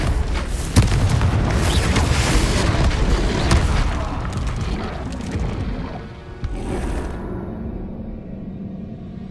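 A Confringo fire-blast spell in Hogwarts Legacy on Xbox Series X erupts as a loud, sustained booming roar that rumbles on for several seconds before thinning out and fading.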